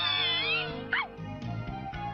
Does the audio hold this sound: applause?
no